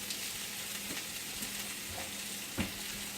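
Deer steaks frying in a hot cast iron pan, a steady dense sizzle and crackle running throughout with occasional soft knocks and scrapes, close and alone without talk.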